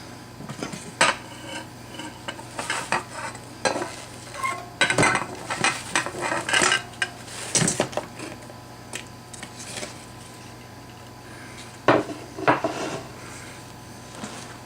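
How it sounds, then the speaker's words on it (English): Chipotle chicken wings being stirred and tossed in a bowl or pan give off a run of irregular clatters and scraping knocks, close and moderately loud, with no talking. "I'm going to stir these up. Get them all tossed and turned good."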